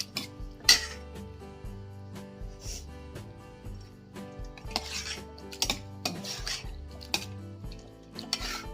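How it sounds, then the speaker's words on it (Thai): Vegetables added to squid larb and mixed in a pan: near clinks and scrapes of a utensil against the pan, with irregular stirring knocks and faint sizzle under background music, no talking. "ตอนนี้เราก็ใส่ผักแล้วค่ะ"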